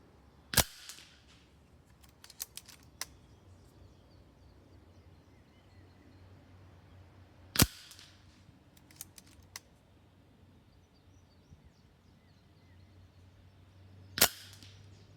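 Three sharp, close .22 rifle shots crack out at a 50-yard target several seconds apart, each followed by faint mechanical clicks from working the action.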